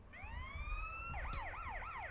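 A police car siren in Grand Theft Auto: San Andreas, heard as a rising wail that switches to a fast yelping sweep, loud and continuous with no talk.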